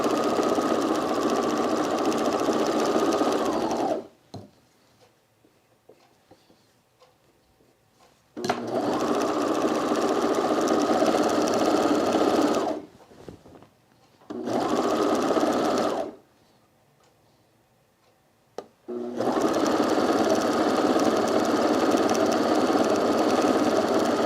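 A sewing machine stitches an Azores dress from an Itch to Stitch pattern, running in steady, even bursts of several seconds separated by quiet pauses.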